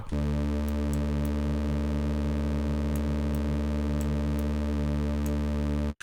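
A steady, thick synthesizer tone holds one sustained note, with layered detuned voices creating a gentle shimmering beat, ending abruptly.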